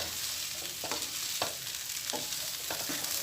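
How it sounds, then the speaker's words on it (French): Vegetables seasoned with black pepper are stirred in a hot pan, with a steady sizzle and several distinct scraping strokes at a regular pace, close by with no talking. "On mélange, bien mélanger."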